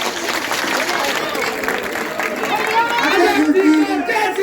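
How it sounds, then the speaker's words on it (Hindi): A village crowd in Kamalpur claps to welcome BJP state president Manohar Badoli, a steady wash of applause mixed with loud crowd chatter and voices throughout. "माननीय श्री मनोहर जी बड़ोली के स्वागत में जोरदार तालियों से"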